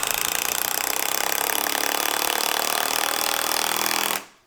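A Milwaukee M18 Fuel impact driver running on a 6.0 battery drives a lag bolt in one loud, continuous rattling hammer burst that holds steady for about four seconds, then stops abruptly.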